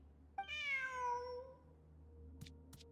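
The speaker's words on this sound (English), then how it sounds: "Who's a good kitty?" A cat in a video game gives one clear, rising-then-falling meow alone in a quiet scene, followed by two brief soft clicks.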